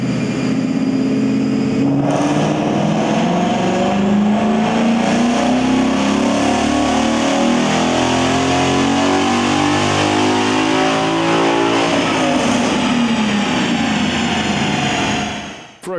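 A Ford Mustang GT with a six-speed manual and a Ford Performance GT350 catback with sport mufflers revs hard through a long, rising engine pull, loud and close. The roar climbs steadily, then drops off sharply at the end.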